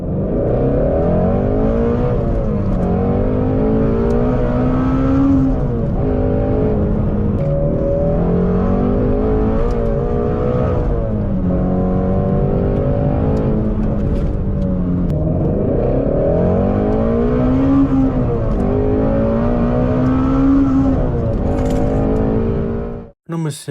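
Flat-plane V8 muscle car with an active exhaust, revved hard near 8,250 RPM with the clutch dumped: loud, continuous engine roar that repeatedly swells and falls in pitch across the whole stretch, cutting off abruptly at the end.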